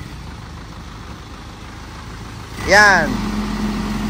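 A truck engine idles during an RPM check, a low, steady mechanical hum in the background that swells slightly near the end, when a short spoken word is heard.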